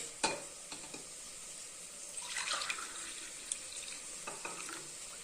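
Soaked rice water being drained and poured off the rice for kuska biryani, a soft splashing, trickling pour with a few sharp clinks near the start, fairly quiet and close with no talking.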